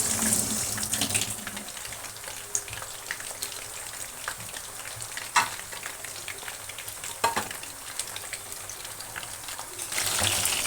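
Cornflour-coated fish fries in hot oil with a continuous crackling sizzle. Sharper pops and spits break through the steady hiss now and then, and no one speaks over it.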